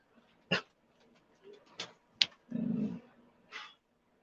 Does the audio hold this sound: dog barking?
yes